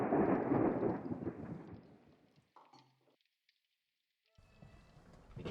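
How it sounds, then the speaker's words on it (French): Loud rolling rumble of thunder in a storm, dying away into near silence, followed by faint noise as sound returns near the end. "Le tonnerre?"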